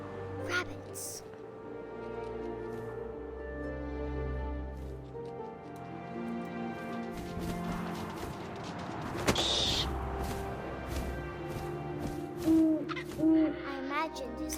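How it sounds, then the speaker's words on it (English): An owl hoots in What Remains of Edith Finch, a soft call rising over a steady ambient game soundtrack, with a brief sharp accent partway through and a couple of louder bursts near the end. "And suddenly, I was an owl."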